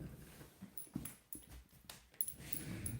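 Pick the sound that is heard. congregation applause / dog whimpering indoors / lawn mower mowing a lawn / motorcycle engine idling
dog whimpering indoors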